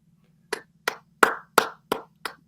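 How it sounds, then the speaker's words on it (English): Light golf clapping: six separate, evenly spaced hand claps, crisp and fairly close, over a faint low hum, with no talking. "Golf clap for the golf analogy."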